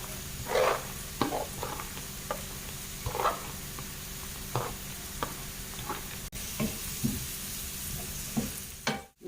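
Spring onions and green pepper sizzle faintly in a pan, with soft, irregular scrapes and stirs breaking through the low, steady frying hiss.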